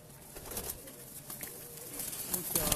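Lakha pigeons give faint, low calls within a noisy, steady background with a few brief brighter bursts throughout.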